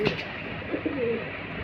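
Pigeons of Royal and Budapest breeds coo softly in a loft kept for sale, a few low murmuring coos over faint background noise.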